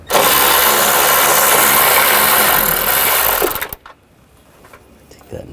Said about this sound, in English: Using a 10mm socket, take this nut out